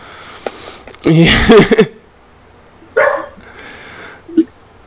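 A dog barks a few times in short bursts, with a sharp yip near the end, fairly close and loud against a quiet background.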